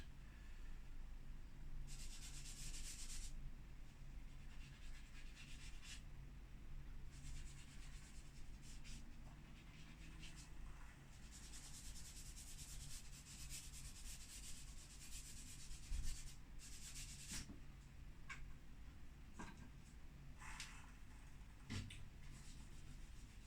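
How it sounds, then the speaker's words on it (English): An eraser rubs over a charcoal and chalk pastel drawing to blend it, a quiet, close, continuous scrubbing with scattered brief bursts of stroking, alone without any talk. "I'm using my eraser here to do a little blending"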